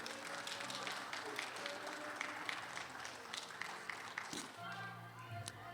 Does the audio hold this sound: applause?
yes